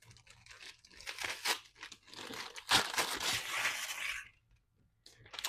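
Colorful gift wrapping paper being torn and crumpled open at close range, quiet bursts of crinkling and ripping in several short rustling bouts with brief pauses between.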